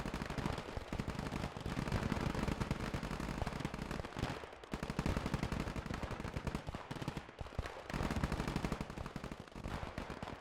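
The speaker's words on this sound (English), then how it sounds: "I love hearing those MG34s go at it from the half tracks" MG34 machine guns on half-tracks fire in the Gates of Hell battle game, dense sustained bursts of automatic gunfire with overlapping shots and short gaps, loud and continuous throughout.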